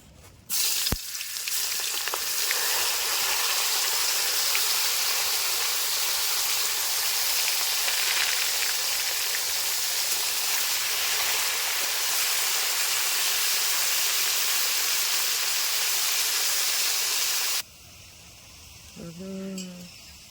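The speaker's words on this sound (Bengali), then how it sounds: "ফুলকপিতে হলুদ আর লবণ দিয়ে নিয়েছি, একসঙ্গে একটু ভেজে নেব।" Cauliflower seasoned with turmeric and salt sizzles in a pan in a village kitchen, a loud, steady frying hiss lasting most of the time before cutting off to near quiet with a few faint sounds.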